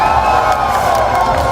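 A packed crowd at the PMWC esports finals in Paris cheers and whoops, a loud continuous roar of voices that fills the hall from start to finish without a break.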